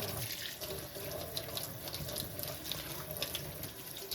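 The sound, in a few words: tap water running into sink, washing collard greens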